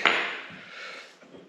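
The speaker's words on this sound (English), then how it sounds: "if you don't have a press, well, a hammer will work." A single sharp metallic tap of a hammer on a Can-Am X3 Smart-Lock differential part rings out and decays, followed by a couple of fainter knocks, close and fairly loud.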